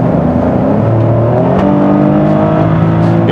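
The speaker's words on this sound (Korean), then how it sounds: "엔진 소리가 꽤 또는 배기음이 크게 들어오죠" Maserati Grecale Trofeo SUV in comfort mode, engine and exhaust rising loudly and steadily under full throttle from inside the cabin, a continuous droning roar with climbing tones and no talk.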